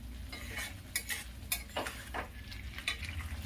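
Aloo matar paneer curry bubbling in a pan on a gas stove, with soft popping and sizzling plus a few sharp clicks of a spoon against the pan, close and fairly quiet.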